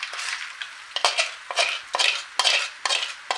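Fried crabs are stirred into a thick masala gravy in a pan for an Andhra crab curry. A spoon scrapes the pan in repeated rhythmic strokes, fairly close and loud, with no talking.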